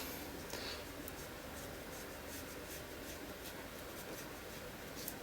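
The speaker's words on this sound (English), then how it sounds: "The pen is archival ink, so that's the Pigma Micron pen, the PN nib." A Pigma Micron archival ink pen with a PN nib scratches softly across paper in steady, close strokes, quiet against a constant background hiss.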